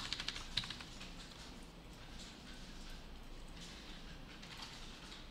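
A few quiet key clicks on a computer keyboard sound at the very start, pressing Ctrl+1 while coding in a Thymeleaf project, then give way to a faint, steady background hiss.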